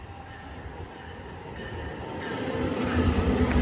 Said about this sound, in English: here is the 3rd train.